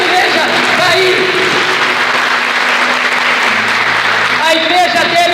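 A church congregation applauds loudly and continuously, a dense wash of clapping from a large crowd with some voices mixed in throughout.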